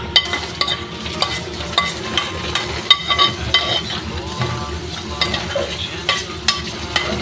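Food fries and is stirred in a small pan, with a steady sizzle and irregular scraping and clinking of the utensil over about seven seconds. It sounds close, and there is no talking.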